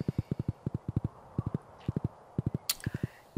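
Horse hooves clip-clop in Stardew Valley, a quick, steady rhythm of close, crisp clops in short bursts, with a brief bright chime partway through.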